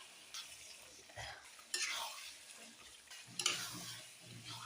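Chicken pieces stirred with ground coriander and spices in a pan, faint scraping and soft sizzling with a few sharp metallic clinks of the spoon against the pan.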